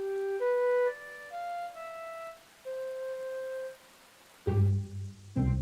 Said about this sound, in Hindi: आज बारिश हो रही है, इसलिए पेपा और जॉर्ज बाहर नहीं खेल सकते।